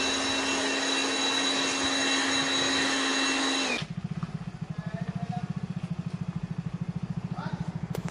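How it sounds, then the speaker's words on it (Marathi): An electric blower cleans a shop floor, a loud steady high whine that cuts off abruptly partway through, leaving a rapid pulsing motor drone underneath. "दुकान उघडलं आणि पहिला आधी ब्लोअर मारून घेतलं"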